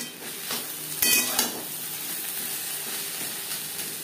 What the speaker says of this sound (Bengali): লবণ হলুদ লতির সাথে বেশ ভালো করে মিক্স করে দেবো